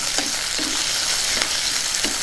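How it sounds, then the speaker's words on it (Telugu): Cumin, chopped onion and garlic fry in a hot pan for an ivy gourd pickle, giving a steady close sizzle broken by a few soft scraping stirs at regular intervals. "వీటిని ఒకసారి బాగా కలుపుకుందాం."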